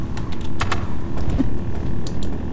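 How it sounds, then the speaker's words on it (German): Computer mouse buttons click while Road Redemption is played: a quick, irregular run of close, sharp clicks over a steady low game rumble, with no talking. "einfach mit der Maustaste klicken"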